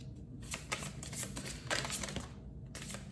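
Tarot cards handled, riffled and drawn during a reading, several bursts of close papery flicking and shuffling with brief quiet gaps and no talking.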